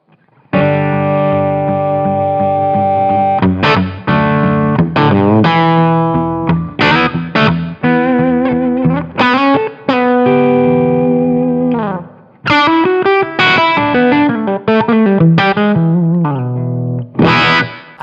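Electric guitar played through a Blackstar Jared James Nichols amp plug-in with reverb set halfway, loud distorted chords and sustained notes ringing out in phrases, with brief gaps and a reverb tail.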